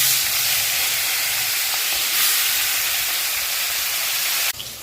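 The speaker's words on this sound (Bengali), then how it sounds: "এখন মাছগুলি একে একে কড়াইয়ে দিয়ে দেব" Hilsa fish coated in turmeric and salt hits hot oil in a wok and sizzles in a loud, steady hiss that cuts off abruptly near the end.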